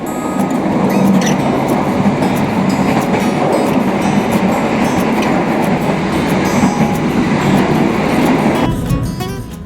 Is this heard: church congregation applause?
no